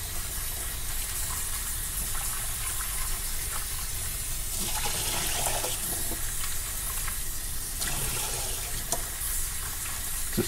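Tap water runs steadily into a sink as food is rinsed for a salmon poke bowl, a continuous splashing gush with a few brief surges and no voices over it.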